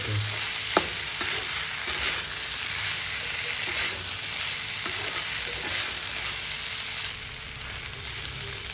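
Sesame seeds and peas fry in a pan for Nepali-style achar, giving a steady close sizzle with occasional stirring scrapes and a single sharp clack near the start.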